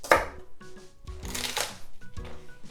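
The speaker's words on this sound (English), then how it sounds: "I'm going to cut up the scallion." A knife chops scallions on a cutting board in a few quick, close, crisp taps with short pauses between them.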